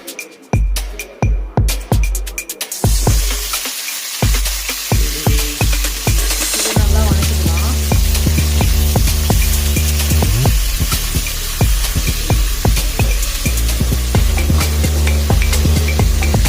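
Cut tomatoes hit hot oil in a pan and sauté for a village-style ground tomato sambar: a few sharp clatters first, then a loud, steady close sizzle with spatula scrapes and stirring throughout.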